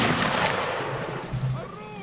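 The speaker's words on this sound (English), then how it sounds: "I think a cannon just shot at me." A cannon blast in the Napoleonic Wars mod of Mount and Blade Warband, a loud booming shot that rolls off into a long echoing tail, with a voice briefly heard underneath.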